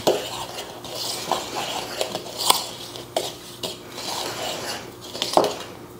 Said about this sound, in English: We're just gonna mix it real good.